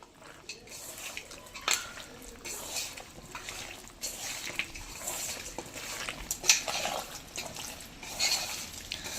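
Chicken 65 marinade with lemon juice and two eggs, Madurai style, stirred by hand in a bowl: scattered clinks and scrapes against the dish with soft wet squelches, close and moderately quiet, the sounds irregular over steady background hiss.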